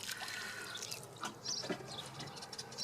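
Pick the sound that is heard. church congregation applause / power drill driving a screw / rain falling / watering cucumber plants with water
watering cucumber plants with water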